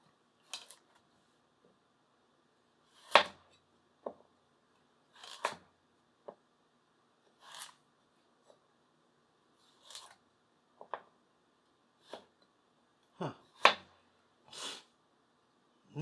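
A Daovua full-tang kiritsuke knife slices through a carrot, giving about a dozen separate crisp chops against a cutting board, spaced irregularly in an otherwise quiet room.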